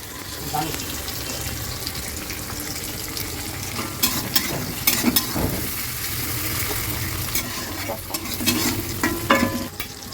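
Tomatoes stirred in a hot pan sizzle steadily up close, broken by scraping utensil strokes and small clattering knocks, with a soft voice faintly in the background.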